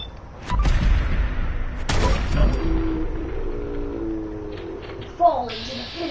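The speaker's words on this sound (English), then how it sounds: "That explosion." A heavy explosion booms in Fallout 4, a loud burst followed by a rumbling tail, with people talking over it.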